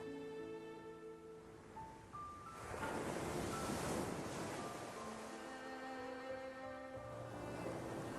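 Ocean waves wash in steadily for the open sea around a small boat at night, a soft continuous surf that swells louder midway and holds under a faint sustained musical tone.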